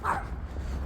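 One short, high-pitched yap from a small dog, close by, fading into low background noise.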